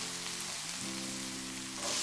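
Food for tacos sizzling steadily in a frying pan as beans are added, a dense continuous crackle under a low hum, close by and with no talking.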